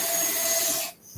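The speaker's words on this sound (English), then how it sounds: "That's a drill." A drill running nearby during electrical work, a steady high-pitched whine with a tonal hum that holds for about a second, then cuts off abruptly and leaves near silence.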